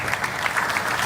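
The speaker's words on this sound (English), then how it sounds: "we can clap hands for that because it's been a big achievement" An audience claps in steady, dense applause, moderately loud and close, with a faint crowd murmur beneath the clapping.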